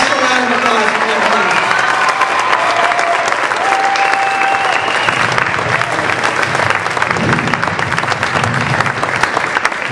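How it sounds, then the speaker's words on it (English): Audience applause after a community musical theater production of Into the Woods, a steady dense wash of clapping hands lasting throughout, loud and close, with no voices above it. "an extra round of applause for him"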